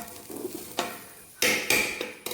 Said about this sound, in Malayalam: ഒരു 10 മിനിറ്റ് അടി പിടിക്കാതെ മാതിരി ഇളക്കിക്കൊണ്ടിരിക്കണം.